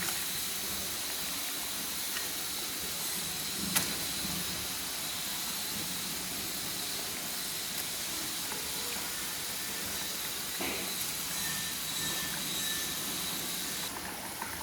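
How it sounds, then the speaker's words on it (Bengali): A steady, soft hiss of sour fish broth simmering in a pot, continuous and fairly quiet, with a couple of faint clinks. "দেখুন টকটা ফুটছে"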